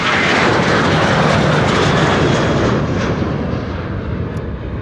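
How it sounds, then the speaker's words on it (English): A Transavia airliner in Peter Pan Vacation Club livery passes by at Amsterdam Schiphol, its loud, steady engine roar filling the air and slowly fading as it moves away, with no voices. "The Peter Pan Vacation Club livery of Transavia just passing us by"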